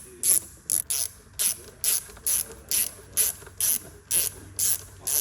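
Torx bit ratcheting out the MAF sensor screws on a Holden Commodore, a regular run of about a dozen short, bright clicking bursts, close and clear, with no talk.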